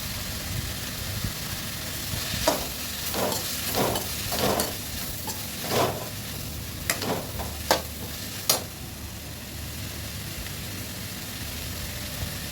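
Cluster beans with turmeric and chilli powder sauté in a pan, a steady soft sizzle broken by a string of scraping stirs and a few sharp clicks of the spoon against the pan.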